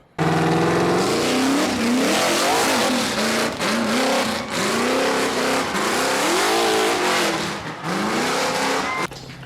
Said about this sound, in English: So that's the name of the game with rock bouncing. It's basically drag racing straight up a hill.